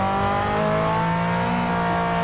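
Turbocharged four-wheel-drive Toyota Himedic ambulance converted into a race car on soft racing tires, its engine droning loud and steady with rising harmonic whine as it drives hard, heard close from a bumper-mounted position with no talk.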